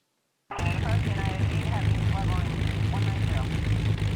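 A Beechcraft Baron 58 twin piston engine idles and hums steadily while taxiing in the X-Plane flight simulator, a droning propeller tone that starts abruptly after a short silence, with someone talking over it.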